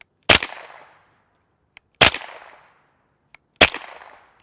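Three sharp, loud supersonic cracks from a suppressed 5.7x28mm firearm firing Fiocchi 62-grain FMJ rounds, spaced roughly two seconds apart, each with a short decaying tail, plus faint clicks between shots.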